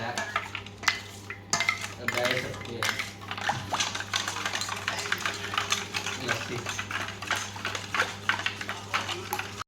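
Summer lassi being mixed with ice, a utensil clinking and scraping against the vessel in rapid, continuous strokes, with ice knocking around, close and busy over a low background hum, with occasional voice.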